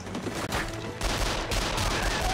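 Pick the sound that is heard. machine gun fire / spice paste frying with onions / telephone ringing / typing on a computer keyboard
machine gun fire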